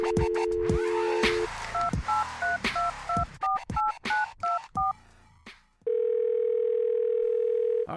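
Phone call being placed during a post-race radio podcast for a CARS Tour stock car event: an opening dial tone, a quick run of about a dozen touch-tone dialing beeps, then a steady ringback tone, loud and close.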